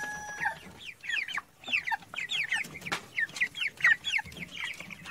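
Free-range and broiler chickens cluck and chatter steadily at close range, with many short overlapping calls and a few louder squawks over faint background noise.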